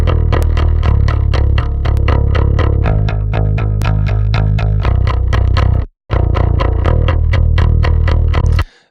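Heavily distorted electric metal guitar playing fast, evenly picked chugging riffs with sharp pick attack, loud and close, briefly cutting to silence before the riff resumes with a brighter EQ.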